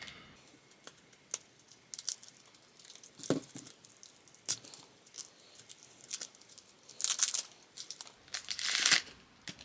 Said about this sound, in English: Let's go ahead and open these deck of cards